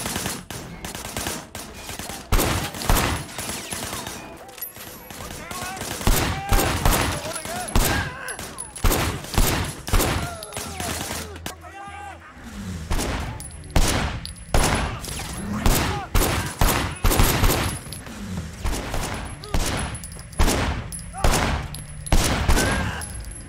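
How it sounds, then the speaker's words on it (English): Repeated gunfire at a firing range in the video game Sleeping Dogs, loud sharp shots in irregular bursts across the whole stretch with a brief lull midway, mixed with game voices. "Officer Shen, take up a firing position."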